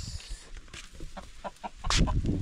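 Chickens cluck in short, scattered bursts close by, with rustling and scratching noises, growing busier toward the end.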